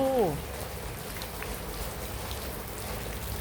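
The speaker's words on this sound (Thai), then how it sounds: "ฝนเบาแล้ว ฝนเบาแล้วพุ่นนะท้องฟ้า" Light rain falls steadily on a rural Thai village with boats kept at every house, a soft, even patter that continues throughout, with a brief voice-like tone at the very start.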